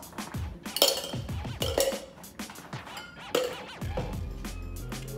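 Ice cubes dropped into a metal cocktail shaker while making a Bronx gin cocktail, a series of bright clinks and clatters in several bursts, close and fairly loud, with no talk.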